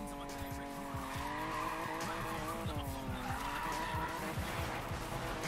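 A car drifts with its tires skidding and squealing in long, wavering screeches over a revving engine, held continuously and close throughout.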